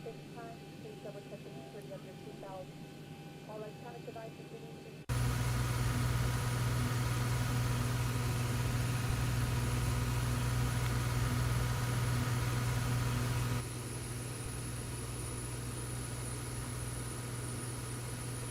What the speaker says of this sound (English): Now it's the APU is starting outside.